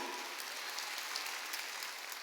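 Applause from a church congregation during a Sunday worship service, a dense steady patter of many hands clapping at a distance, sustained without a break.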